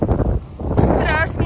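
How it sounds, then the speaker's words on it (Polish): Strong wind on a beach buffets the microphone with a low, rough rumble. It runs constantly beneath someone speaking close by. "Strasznie z niej wieje, jest taki wiatr, że żadna przyjemność siedzenia na tej plaży"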